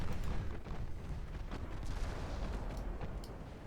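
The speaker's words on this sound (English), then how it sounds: "Torpedoes just fired randomly at me" Torpedo explosions in a naval combat game's DIP v3 Brazilian campaign, a dense rumbling boom that rolls on for several seconds with scattered sharper blasts layered through the roar.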